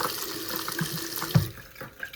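A low-pressure faucet runs in a continuous, modest stream, with a brief clunk near the end before the flow quiets slightly.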